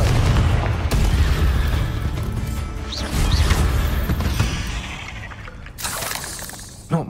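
Confringo fire spell blasts in Hogwarts Legacy during a fight with a giant spider, a string of booming, crashing explosions with shattering debris rumbling on, followed by softer magical whooshes and a final sharp burst.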